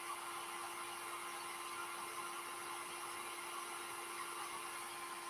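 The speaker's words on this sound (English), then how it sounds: "So I'm hitting it with the hairdryer." A hairdryer blows steadily on a plastic Mr. Freeze action figure, giving a constant, even whine and rush of air with a fixed tonal hum and no talk.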